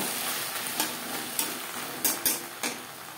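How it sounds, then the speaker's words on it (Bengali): Okra frying lightly in a pan gives a steady soft sizzle, with a few brief stirring scrapes and taps of a utensil against the pan and no talking. "ভেন্ডি আমি হালকা করে ভেজে নেব, খুব বেশি কড়া করে ভাজার প্রয়োজন নেই।"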